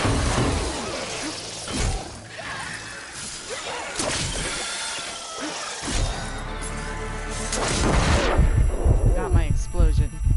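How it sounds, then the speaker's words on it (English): An explosion in the video game Horizon Forbidden West, sharp shattering bursts and blasts among whooshes and crashing debris, loud and busy with heavy booms swelling toward the end. "Explosion."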